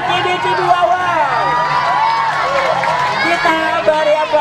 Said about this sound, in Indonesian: Beri tepukan yang meriah untuk Cibi Wow.